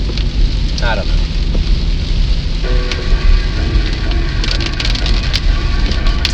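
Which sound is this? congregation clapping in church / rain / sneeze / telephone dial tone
rain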